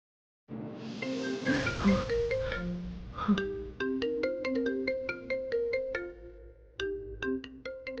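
A phone ringtone plays a bright, melodic electronic tune in clear repeating notes, loud and close, with no voices over it.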